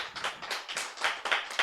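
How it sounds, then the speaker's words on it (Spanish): Congregation applauding at a Spanish-language evangelical Bible study, a brief burst of loud, dense hand clapping with uneven rhythm. "Dale un fuerte aplauso al Señor."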